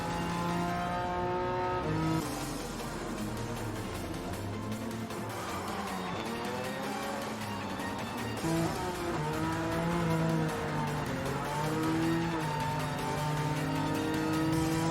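Race car engines in Gran Turismo 7, including a Ferrari, rev and accelerate continuously down a straight, rising and falling tones through gear changes, loud and steady throughout.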